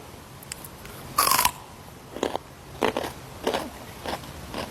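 Several crisp crunchy bites into a raw hybrid carrot at irregular intervals, the first loudest, with quieter crunches following in a quiet room.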